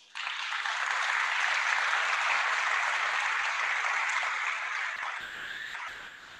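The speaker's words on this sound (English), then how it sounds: "with a huge round of applause" School audience at an investiture ceremony applauding, a dense, loud, sustained burst of clapping that fades and thins out toward the end.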